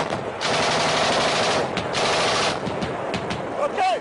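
Automatic weapons fire crackles in rapid bursts during a French army combat engagement, loud and sustained with dense repeated shots, and voices call out briefly near the end.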